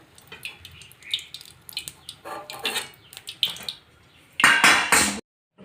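Fried semolina kadakanya being lifted out into a sieve gives scattered light metallic clinks and scrapes, close by, ending with a louder burst of rattling before a sudden stop.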